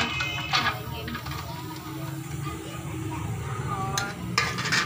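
Onion tipped into a pot for aloo matar with cumin, salt, potatoes and ghee, giving soft clatters and a scrape of metal against the pot over a steady low sizzle, close by in a home kitchen.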